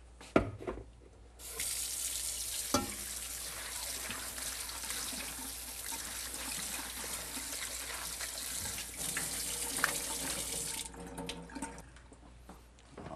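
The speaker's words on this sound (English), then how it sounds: "We have to wash the potatoes." Tap water runs steadily into a kitchen sink while potatoes are washed, a loud, close, continuous splashing rush lasting about nine seconds, with brief clunks before and after and no talk.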